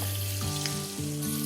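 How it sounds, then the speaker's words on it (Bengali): Fish and eggplant fry in hot oil together in a home kitchen pan, giving a steady close sizzle throughout with faint crackles and a low hum underneath, no talking. "এদিকে আমাদের বেগুনও প্রায় ভাজা হয়ে গেছে।"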